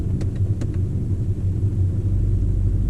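A VW Golf R with a catless downpipe and EQT Stage 2 tune idles in race mode, its exhaust a steady deep rumble with a low droning hum, loud and close, with no voices.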